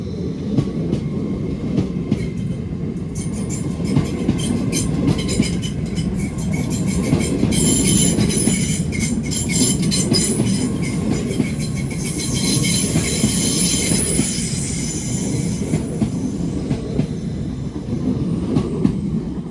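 A train running from Liverpool Lime Street to London Euston passes close by, with a loud sustained rumble, rhythmic clickety-clack of wheels over rail joints and high squeals from the wheels, for about twenty seconds with no talk.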